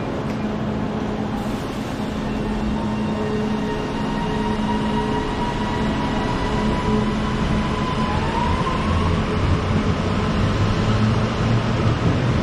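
A train rolls through Preston station with a steady, loud rumble of wheels and engine, a continuous drone holding throughout with a faint rising tone near the end.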